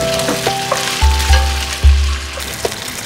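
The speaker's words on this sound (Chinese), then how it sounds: "倒入虾仁翻炒至断生" Shrimp stir-fried in hot oil with scallion and ginger, a steady sizzle broken by a few heavy low thumps and clatters from the wok and spatula, close up.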